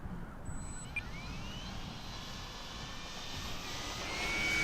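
Air Tractor 1.5m RC model airplane with AS3X stabilization, running on a 3200 4S battery, taking off on its first shakedown flight; a steady electric motor whine builds and grows louder over broadband wind rumble.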